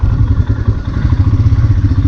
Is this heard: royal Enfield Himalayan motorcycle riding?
yes